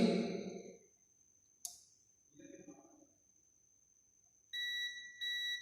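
A continuity tester buzzer on a wire sounds in two short, steady electronic bursts near the end, after a sharp click and some brief talk earlier.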